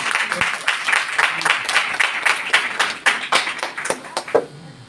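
An audience at a church discipleship seminar claps loudly and continuously. The applause stays dense and close for about five seconds, then begins to thin out at the end.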